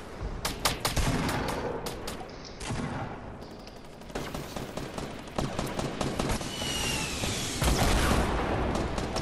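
Heavy shotgun fire in a video game, loud booming blasts in rapid bursts mixed with other gunfire, some shots close and sharp, others layered together in a continuous barrage.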